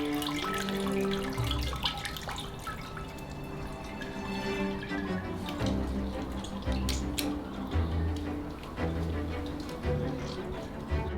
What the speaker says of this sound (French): Nous le recueillons avec nos mains et pressons l'excès de liquide.